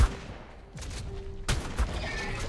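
Shotgun blasts in the video game ARK, a few loud, sharp booming shots spaced irregularly over a steady background hum.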